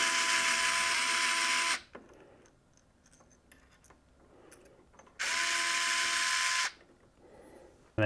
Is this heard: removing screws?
yes